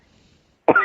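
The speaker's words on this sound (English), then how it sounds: "I still have some of my lingering cough from when I was sick." A single lingering cough from someone recovering from illness, loud and close, bursting out abruptly after near silence.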